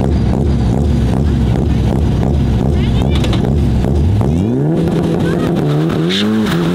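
A circuit race car with a Toyota 2JZ engine runs loud and steady, with a deep lumpy rumble that swells into a brief rev near the end; buffeting wind noise sits over it and voices are heard.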